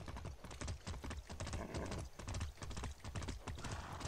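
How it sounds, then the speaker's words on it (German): Horse hooves clip-clop in a steady, rapid rhythm as a horse is ridden in the video game Far Cry 6, loud and continuous with no talking. "Schön hier lang reiten."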